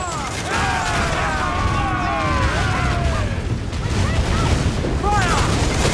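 Naval cannon fire from ships in Assassin's Creed Black Flag during a legendary ship battle: a steady roar of booms and bursts under whooshing tones, with a burst of shots near the end.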